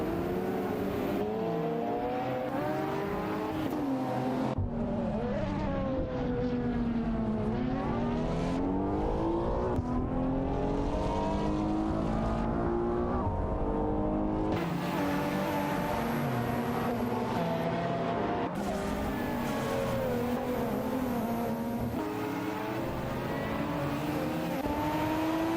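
Race cars, including a Porsche Carrera GT, roar continuously in a racing video game, with engines revving and shifting pitch as they accelerate and hold speed, loud and sustained throughout.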